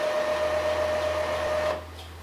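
An Epson L3110 ink tank printer charges its print head with a loud, steady mechanical whir and a faint thin whine. It runs close by for under two seconds, then drops to a softer hum.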